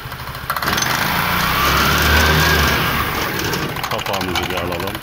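Vespa scooter engine revved with the throttle during maintenance work, a loud, close whine that rises and holds steady, with someone talking over it.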